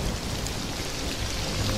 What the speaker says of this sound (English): It's just the rain, Donkey.